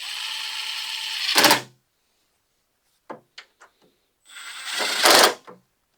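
Ratchet tightening battery terminal bolts on a 1999–2006 Chevy GMC GMT-800 truck: two longer bursts of rapid clicking separated by a few short, sharp metallic ticks, heard close and alone.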